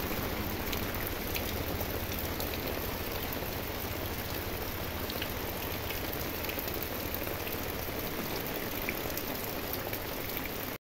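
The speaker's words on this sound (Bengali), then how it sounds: "রৌদ্র আবার বৃষ্টি হচ্ছে।" Rain falls in a steady, dense patter over a sunny-day shower, a continuous hiss with no breaks and no voices.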